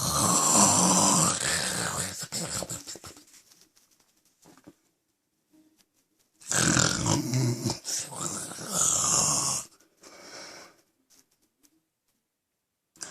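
A woman snores loudly in bed in two long, rasping, rattling bursts close by, separated by a stretch of near silence, with a short sound right at the end.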